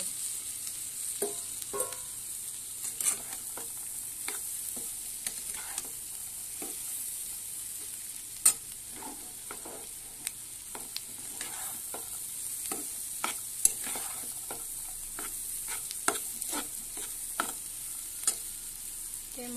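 Fried potatoes being stirred with dried red chillies in a sizzling pan, a steady hiss of frying under repeated scraping and clinking of the spatula against the metal, with no talking.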